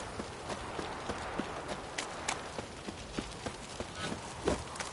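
Horse hooves clip-clop at a steady walking pace in The Witcher 3: Wild Hunt, the evenly spaced, moderately close knocks carrying over a soft ambient background with no speech.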